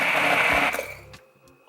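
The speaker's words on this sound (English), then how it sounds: "taking my hand blender and blending out all the chunky mango pieces until my caramel sauce is nice and" A hand blender whirs through chunky mango caramel sauce, a steady loud motor whine that cuts off partway and then fades into quiet.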